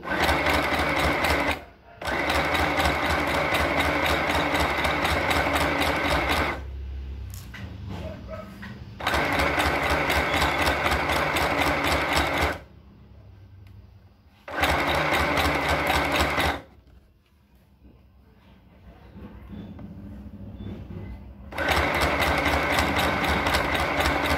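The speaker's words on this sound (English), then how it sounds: "There is a little problem on my sewing machine." A sewing machine that is running tight stitches a shirt armhole in rapid rhythmic bursts, stopping and starting several times with quiet pauses between, loud and close.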